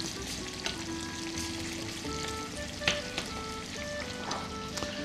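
Chopped onion sizzles and crackles steadily in an oiled pan, with occasional stirring clinks and scrapes, close and even throughout, while a meat-and-greens tolma is being cooked.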